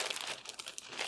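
A large plastic bag holding embroidery projects crinkles and rustles steadily up close, a continuous crackling handling noise with no voices.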